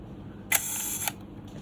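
A FED-5 Russian rangefinder camera's shutter clicks open and then snaps shut about half a second later, two crisp mechanical clicks over a faint background hum.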